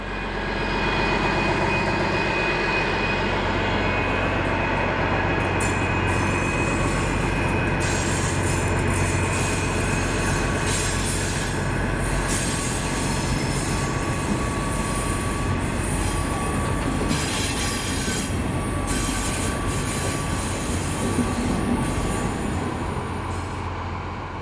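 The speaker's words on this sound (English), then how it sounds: "This is Hamburg, and 218-286 departs for Lübeck in April" A German class 218 diesel locomotive pulls out of Hamburg toward Lübeck, its loud heavy engine roar steady throughout, with rolling wagons and high wheel squeal rising over the rumble.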